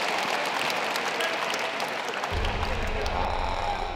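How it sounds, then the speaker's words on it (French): A hall of about 300 teenagers applauds a kung-fu master at a self-defence class in China, continuous loud clapping from a big crowd with a low rumble joining partway through. "On l'applaudit."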